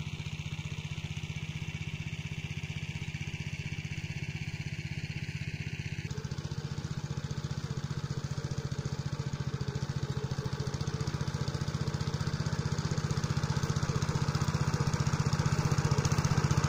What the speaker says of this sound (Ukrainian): відповідно мотоблок трішечки заривається